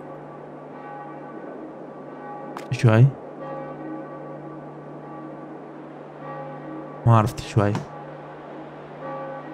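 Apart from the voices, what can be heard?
church bell ringing in Farming Simulator 22 video game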